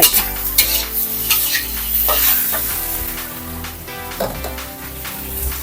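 Food fries in oil in a pan until dry, giving a continuous close sizzle with frequent stirring scrapes and clinks of a utensil against the pan.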